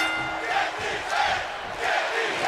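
Video game wrestling arena crowd in WWE 2K chanting, a steady roar of massed voices swelling in waves, rising around the one-second and two-second marks.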